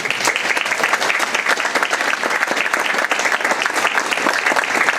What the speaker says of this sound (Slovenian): da dobite en močen aplavz.